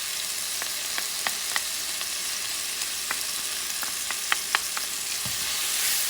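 Barley and ribs stew with flour sizzling steadily in a pot while being stirred, a broad frying hiss with scattered scraping taps of the spoon.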